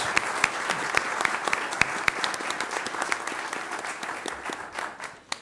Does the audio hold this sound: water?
no